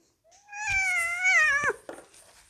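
A tomcat gives one long, drawn-out meow while being lifted and moved, loud and close, with a short rustle of handling after it.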